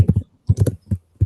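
Heavy typing on a computer keyboard during an online community call, heard as a few separate bursts of dense clacking keystrokes with short pauses between them, close and fairly loud, with no voices.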